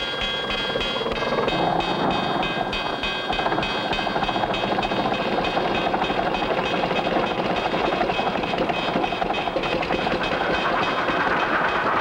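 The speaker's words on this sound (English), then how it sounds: "Uh oh train's coming." Loud, sustained rumble and rhythmic clatter of a train going by, with a steady metallic drone throughout.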